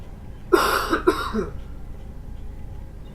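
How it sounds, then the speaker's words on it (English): Two quick, harsh coughs close to the microphone, followed by quiet background with no speech. "I feel a cough coming on."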